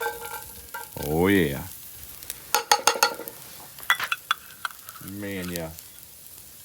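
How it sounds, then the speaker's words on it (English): Garlic sizzles in a pan for an Irish lamb stew, a steady frying hiss with stirring clatter and utensil taps, while someone talks briefly at the start and end. "I'm going to put a little garlic in there."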